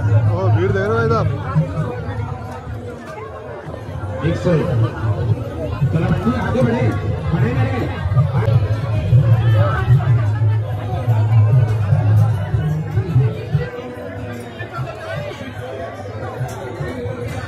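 A dense crowd of visitors at Nidhivan temple in Vrindavan, a continuous close hubbub of overlapping chatter with a voice giving directions over it.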